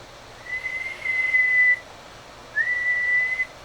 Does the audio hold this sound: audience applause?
no